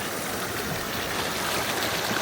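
A river in Japan rushes below a set of stairs, a steady broadband wash of flowing water heard from above, continuous and fairly loud with no voices.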